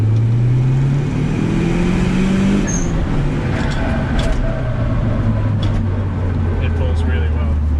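An abandoned show car, freshly fixed of a boost leak, accelerates hard in second gear, its engine note climbing steadily and loudly with road and wind noise, and people talking over it.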